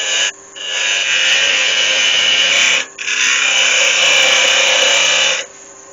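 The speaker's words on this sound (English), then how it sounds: "Just come in there with my thin parting off tool." A thin parting-off tool cutting wood on a lathe, a steady high scraping hiss in long sustained passes with two brief breaks, loud and close with no talk.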